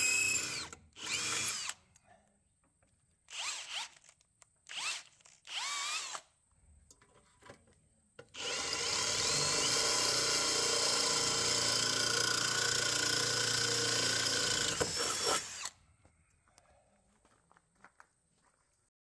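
Jigsaw cutting, preceded by scattered knocks and short handling sounds, then a loud, steady buzzing cut of about seven seconds that stops abruptly, followed by quiet.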